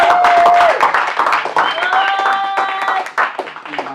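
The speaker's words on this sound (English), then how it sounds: "All right, y'all clap for me." Audience applause at a 73rd birthday music show in Dallas: dense clapping swells at the start and persists under sustained musical tones and voices, thinning toward the end.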